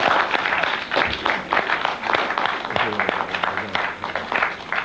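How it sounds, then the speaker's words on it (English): Lecture-hall listeners give a fairly loud round of applause after a talk, a busy, continuous patter of many hands, with a voice briefly heard partway through. "So if you want to give me an applause,"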